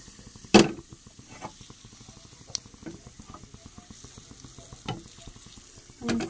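Fenugreek seeds and green chilli fry in a pan with a soft steady sizzle, broken by sharp spatters and a loud pop near the start, close and fairly quiet, no speech.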